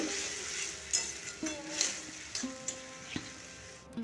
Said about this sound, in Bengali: পেঁয়াজের সাথে টমেটোটাও আমি নরম করে নেব আর কষিয়ে নেব